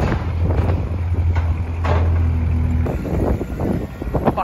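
A Ford Falcon EL XR6 Turbo, a barn find left sitting in a shed for about four years, idles nearby with a steady low engine rumble and a faint whine, heard alone without talk.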